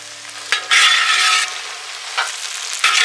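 Green chilies and curry leaves sauté in a pan for ginger-mango pickle, giving a loud, steady sizzle broken by sharp bursts as the mixture is stirred.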